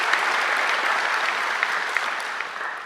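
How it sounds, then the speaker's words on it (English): Audience at a graduation ceremony applauds alumni volunteers, a steady, dense wash of clapping from a large crowd that holds evenly throughout and tapers slightly at the end. "So I think they deserve a round of applause too."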